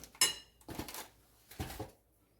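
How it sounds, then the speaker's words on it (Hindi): Chicken is mixed with cornflour in a bowl, giving three separate bursts of clinking and scraping of a utensil against the bowl, close but fairly quiet, with pauses between. "इसको अब अच्छी तरह से मिक्स करेंगे।"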